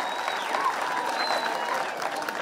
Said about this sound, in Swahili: Pigia wa makofi.